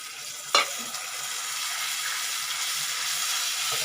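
Strained tamarind water poured into a hot pan of fenugreek for vendaya kulambu gives a sharp splash followed by a steady, even sizzle and hiss that carries on to the end.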